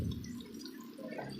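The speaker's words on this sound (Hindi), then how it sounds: "सबसे पहले हम इसके अंदर थोड़ा सा पानी ऐड करेंगे" Water poured into a cooking pot of spices for a bottle gourd and chicken curry, giving a soft, steady liquid splash and trickle close by, continuous for a moment with no talking.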